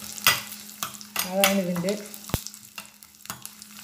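Garlic and fennel seeds fry in a pan for a chicken cashew nut dish, with a soft sizzle broken by several sharp scrapes and clanks of stirring. A voice speaks briefly over the cooking.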